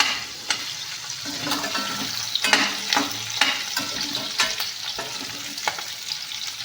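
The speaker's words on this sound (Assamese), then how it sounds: "পিঁয়াজ আৰু কেপচিকাম গোটেইখিনি একেলগতে দি দিছোঁ। আৰু এতিয়া এইখিনি অলপ সময় লৰাই ল'ম।" Onion and capsicum sizzle and fry in a pan with ginger and garlic, a steady close hiss broken by repeated scrapes and clinks of stirring, with no talking.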